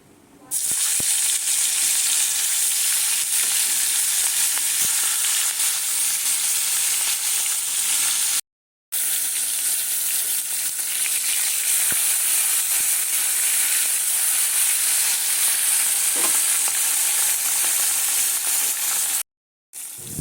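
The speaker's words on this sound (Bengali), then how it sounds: "তেলটা গরম হয়ে গেছে, মাছটা একটু ভেজে নেব" Steady, loud sizzling of hilsa fish frying in hot oil, a dense crackling hiss that runs continuously with two brief cuts to silence.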